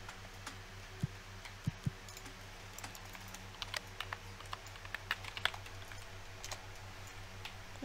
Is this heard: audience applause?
no